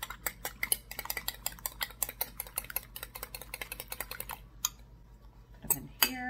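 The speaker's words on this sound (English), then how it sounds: "So I'm going to go ahead and mix this all up with a fork." A fork whisks ingredients for beer bread in a bowl, giving quick, steady clinking taps close by that stop briefly, then a few more scrapes.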